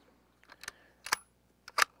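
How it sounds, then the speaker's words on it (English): A rifle bolt is worked on a bipod-mounted rifle, heard as a series of sharp metallic clicks and clacks in separate pairs, close and fairly crisp, with no talking. "All right, go ahead and work the bolt."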